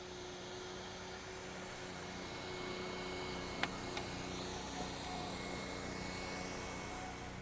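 Robotic hot-air edge welder running a seam on TPO roofing membrane over coated metal edge, a steady fan-like blowing whir that holds an even level throughout, with a couple of faint clicks midway and no voices.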